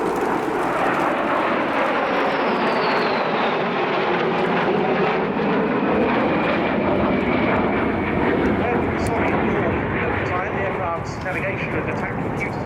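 A Polish Air Force Su-22 jet roars loudly and continuously through a display pass at the Royal International Air Tattoo 2014, its broad engine rumble swelling and shifting pitch as it moves, with a commentator talking over it.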